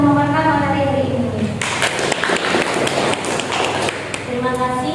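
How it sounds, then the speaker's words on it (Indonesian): An audience claps for Kak Vina after her talk at an adolescent reproductive health session, a dense patter of hands lasting a few seconds. A voice speaks over the applause before and after it. "Tepuk tangan untuk Kak Vina yang sudah memaparkan materi hari ini"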